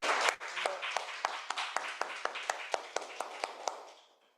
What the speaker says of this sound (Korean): 이분들께 우리가 응원과 격려의 박수 같이 하겠습니다